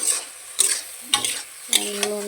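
Potatoes and rumas fish frying in a pan while a utensil stirs them, four distinct scraping strokes over a steady close sizzle, no voices.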